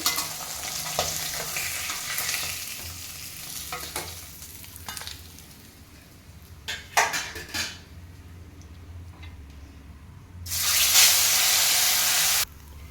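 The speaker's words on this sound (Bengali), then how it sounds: "মাছগুলো কিন্তু আমার ভাজা হয়ে গেছে" Katla fish pieces fry in hot oil, a soft sizzle mixed with scraping and light utensil clinks, then a louder burst of hissing near the end. No one speaks.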